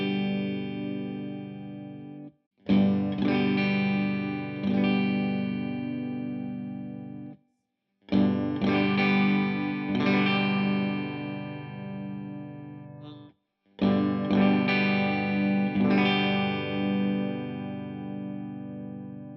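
Electric guitar played in sustained, distorted chords through a Laney Lionheart L20H 20-watt all-tube amp with the mids turned fully down, three loud strummed phrases separated by short silences.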